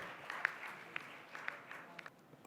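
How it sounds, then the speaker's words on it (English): Faint, distant audience applause at a Royal Society of Fellows event as Dr. Gagandeep Kang is welcomed: a low, steady wash of scattered claps with a few sharper individual hand claps standing out. "a big round of applause for Dr."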